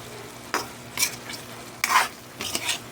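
A spatula or spoon scrapes through sizzling meat in a hot cooking pan in four or five separate stirring strokes, close and clear, over a steady low frying hiss.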